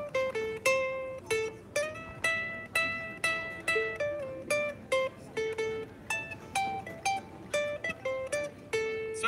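A bluesy ukulele riff picked on one string, with single notes in shifting orders and a loose, quickening rhythm, bright and close, played alone.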